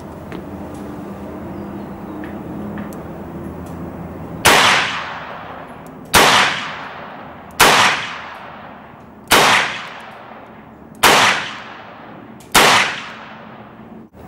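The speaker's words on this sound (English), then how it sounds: "So we'll just fire off 6 shots here with the 38 special" Six .38 Special rounds fired from a Smith & Wesson 686 .357 Magnum revolver, loud sharp reports spaced about a second and a half apart, each trailing off in a short echo, with no talk over them.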